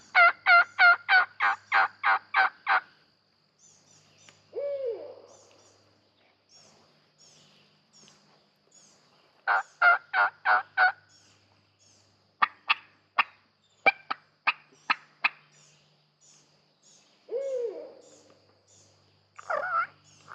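A wild turkey along a swamp edge during a turkey hunt gobbles in repeated rapid bursts, fairly close and clear, with a few other bird calls in the quiet gaps between.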